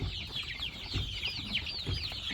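Chickens cluck around a feeder in short, repeated calls at moderate distance, fairly faint, with no talking.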